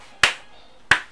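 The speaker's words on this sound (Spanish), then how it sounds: "Un aplauso, yo me levanto." Two sharp, close hand claps ring out alone, spaced roughly two-thirds of a second apart, each decaying quickly into near silence.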